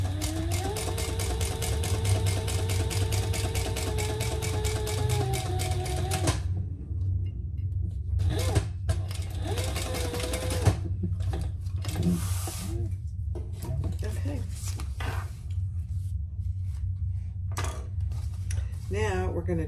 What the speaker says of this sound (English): now we're gonna sew that together at the full seam allowance